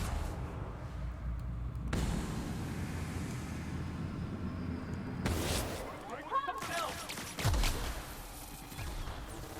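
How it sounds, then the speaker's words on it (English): Gunfire and grenade-launcher blasts in The Outer Worlds arrive in sudden loud bursts between quieter stretches, ending in a deep booming explosion followed by crackling combat noise. "That grenade launcher is a huge ass help."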